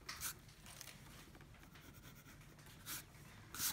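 A pencil eraser rubs across paper on an anime profile drawing, with soft scratchy strokes and a few brief louder scrubs, quiet and close with no talking.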